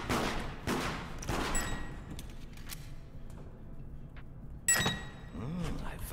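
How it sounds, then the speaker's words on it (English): Gunshots ring out in the video game Deceit: several sharp, fairly loud reports at the start, a quieter lull, then another crisp burst of fire near the end, with faint background sound between. "Someone's shooting me."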